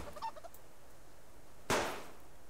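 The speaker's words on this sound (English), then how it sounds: "I think I can get that chicken." A chicken in the survival video game Subsistence gives a few quick, faint clucks, followed by a single sharp, loud burst of noise that fades out over the next moment.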